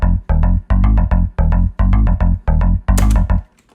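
A self-made FM bass patch on a Yamaha TX81Z synthesizer, lowest layer, plays a loud, punchy rhythmic pattern of about ten short staccato notes with a sharp attack, then stops abruptly.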